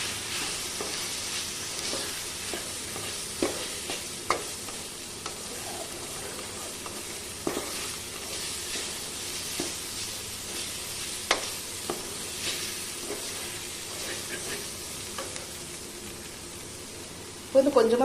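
Mutton fat frying with coriander and turmeric powders sizzles steadily in a pan while being stirred, with soft scraping knocks of the spoon recurring every second or so.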